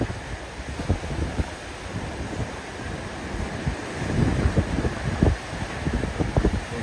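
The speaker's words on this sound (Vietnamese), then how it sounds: "Tại vì đây là biển rất là gió các bạn." Strong sea wind buffets a handheld phone microphone on the coast at Vung Tau beside an anchored barge, a steady roaring rumble with gusty low thumps throughout and no voices.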